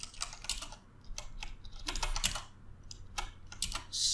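Fast typing on a computer keyboard while coding a Spring Boot project, a close run of crisp key clicks in quick irregular bursts with short gaps, no talking.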